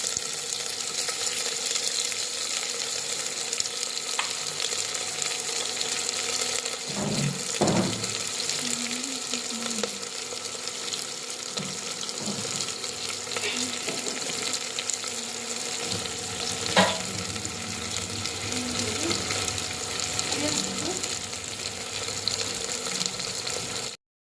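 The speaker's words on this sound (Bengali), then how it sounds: "তেল গরম হয়ে গেছে, জিরের ফোড়নটা দিয়ে পেঁয়াজগুলো, কোচানো পেঁয়াজ আর কাঁচা লঙ্কা দিয়ে দেবো।" Onions and green chillies fry in hot oil tempered with cumin for kabuli chana ghugni, a steady broadband sizzle running throughout with a few clanking stirs and scrapes of the spatula against the pan, no voices.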